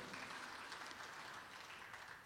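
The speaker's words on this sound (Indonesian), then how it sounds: "Tepuk tangan buat Tuhan kita." A church congregation at a healing and deliverance revival service applauds, a dense, steady wash of many hands clapping at once, heard faintly and from a distance without any voices.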